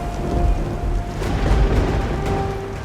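A dramatic television storm effect with heavy rain and thunder, a dense continuous roar of falling rain with deep rumbling booms swelling beneath it, loud and steady throughout.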